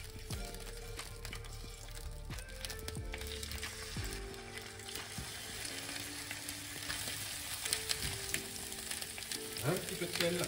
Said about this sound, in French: dans notre poêle, on met un filet d'huile léger. On vient mettre nos pilons.